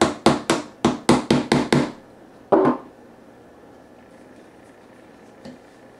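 A blade taps and scrapes to remove material from a universal ammo can battery box, with a run of about eight quick, sharp knocks, then one louder knock after a pause and a faint tap near the end.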